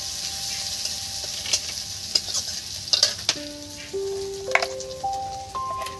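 Crushed garlic sizzles steadily in a pan of frying spices for a mustard katla fish curry, with a constant hiss broken by repeated scraping stirs and clicks close up.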